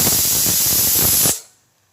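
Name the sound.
pressure cooker whistling with chicken curry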